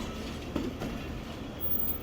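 Pak Business Express passenger train running between Lahore and Karachi, a steady dense rumble of wheels and carriage noise heard from inside a coach.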